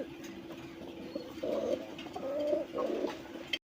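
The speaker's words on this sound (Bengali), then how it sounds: "এখানে একজোড়া সবজি রেসার কবুতর আছে" Racer pigeons coo nearby in a few soft, throaty rolling phrases over a low background hum, with no talking.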